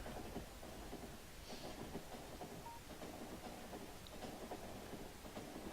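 A train rolls along in the factory-building game Factorio, a faint steady rumble with light rhythmic clatter, heard alone without talk.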